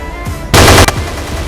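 A loud, sudden burst of rapid gunfire lasting under half a second, followed by quieter background sound.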